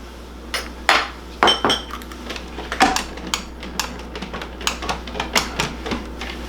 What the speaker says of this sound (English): I'm going to crack our 2 eggs and get those lightly beaten